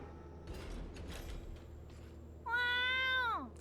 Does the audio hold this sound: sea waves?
no